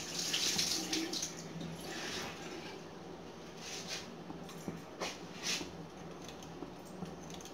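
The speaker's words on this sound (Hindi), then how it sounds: "अदरक भी धो लेना चाहिए, मिट्टी होती है पूरी।" Running tap water splashing over fresh ginger as it is washed clean of soil, a steady close stream broken by handling noises and small knocks.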